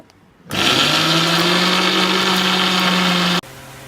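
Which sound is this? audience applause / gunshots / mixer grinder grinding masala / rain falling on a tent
mixer grinder grinding masala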